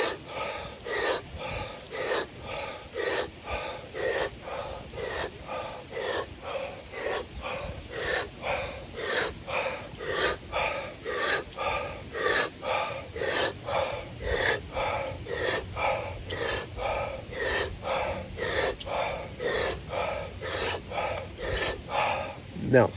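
A person does a deep, rapid breathing exercise of about twenty breaths, each a forceful inhale and exhale in a steady, quick rhythm, loud and close for over twenty seconds.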